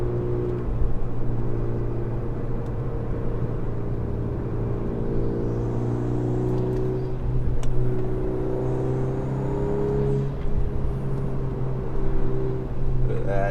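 A Volkswagen Golf R (eighth generation) engine hums and rises in pitch as it pulls under throttle, a steady droning rumble heard from inside the car.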